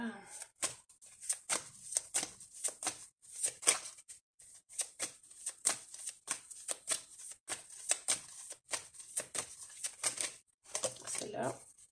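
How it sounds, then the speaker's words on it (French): A deck of large tarot cards being shuffled by hand, a steady run of close, crisp riffling snaps and flutters with brief gaps, under occasional soft talk. "Elles sont dures à mélanger parce qu'elles sont vachement grandes"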